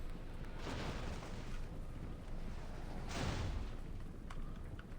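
Bolt thrower shots in the Total War Warhammer 2 battle game: two heavy booming launches roughly two and a half seconds apart, set against a constant dense roar of distant battle noise.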